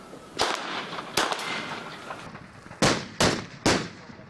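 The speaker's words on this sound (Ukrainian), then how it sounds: "Сьогодні стрільба класична з місця по статичних мішенях." Gunfire from pistols, automatic rifles and sniper rifles at static targets during a special forces team shooting event: about five sharp, loud shots, irregularly spaced, with the last three coming in quick succession.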